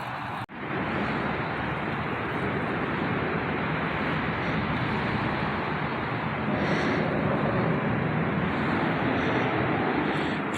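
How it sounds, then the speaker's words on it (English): Cars pass on a large road overhead along a river trail, producing a loud, continuous broadband roar of traffic that stays steady throughout. "You can hear all the cars going overhead"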